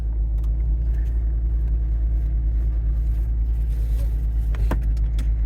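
Interior drone of a car with a 3.09 limited slip differential driving with the windows up, a steady low engine and road rumble with faint occasional ticks and no talking.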